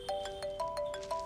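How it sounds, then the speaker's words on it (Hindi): A mobile phone ringtone plays a repeating electronic melody of short bright beeping tones in a quick rhythm, fairly faint and with no talking over it. "क्या रिंगटोन लगाई है तूने?"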